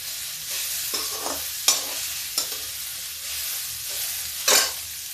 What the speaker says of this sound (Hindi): इसको चला देते हैं। देखिए थोड़ा भून जाती है ये।